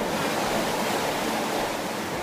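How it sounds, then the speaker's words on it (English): The great water of Lake Superior near Gooseberry Falls rushes as a steady, loud, broadband wash of waves or falling water, unbroken and close, with no voices. "as you can hear, the great water that is behind us"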